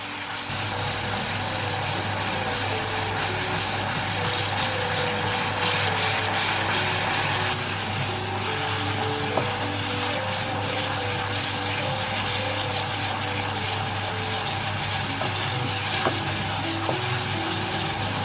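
A coconut mixture simmers and reduces in a pot while being stirred constantly, giving a steady bubbling, sizzling wash with faint scraping and clinks running unbroken throughout.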